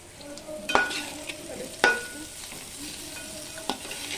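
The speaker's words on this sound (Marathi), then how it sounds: "परतून घ्यायचं." A fasting-style vegetable dish is stir-fried in a pan, with low background sizzling broken by three sharp clinks of a spatula against the pan, spaced a second or two apart.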